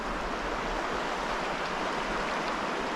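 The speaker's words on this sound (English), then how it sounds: "River's just a bit too wide and a bit too deep." A wide, deep river in Glen Feshie rushing steadily nearby, a continuous broadband roar of flowing water with no voices.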